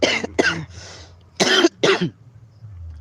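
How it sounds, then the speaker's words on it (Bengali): A person coughs from smoke in several harsh, close bursts with short pauses between them, followed by a quiet low hum. "সত্যি কথা বলতে গেলে এবার আবার কাশি পাচ্ছে"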